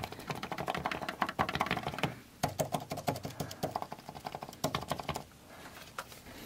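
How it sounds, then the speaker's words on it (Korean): Rapid, close typing on an iPad Pro keyboard (Magic Keyboard and Smart Keyboard Folio) in quick bursts of clicking keys, a brief pause in the middle, then more steady tapping. "키보드 타자 소리를 들어보시겠습니다"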